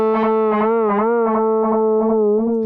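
Bram Bos Hilda synthesizer sounding a run of short, clipped notes with reduced decay and release, a steady buzzy tone pulsing in a quick, even rhythm, close and loud with no voice.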